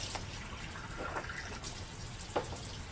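Water runs steadily from an AlkaViva or Kangen water ionizer machine set to Kangen 9.5, a continuous close splashing flow with a few brief louder spatters and no talk.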